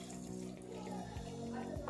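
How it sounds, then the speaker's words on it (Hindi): Half a cup of water poured into a pan of mixed vegetables with potatoes and carrots, giving a steady close splash and sizzle under a low kitchen background. "इसके अंदर हम हाफ कप पानी"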